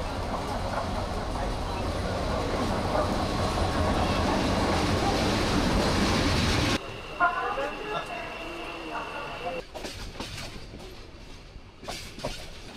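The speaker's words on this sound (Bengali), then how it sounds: "অবশেষে 10 মিনিট দেরিতে আমাদের ট্রেন পারাবত এক্সপ্রেস স্টেশনে চলে আসলো।" Parabat Express passenger train pulling into a Bangladeshi station on the Dhaka–Srimangal route: a loud, steady rolling rumble for about seven seconds, then a sudden drop to quieter platform ambience with voices and faint clanks.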